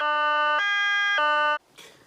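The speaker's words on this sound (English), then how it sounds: "Listen for the high-low sirens." A loud electronic emergency siren alternating between a high and a low tone, then cutting off abruptly.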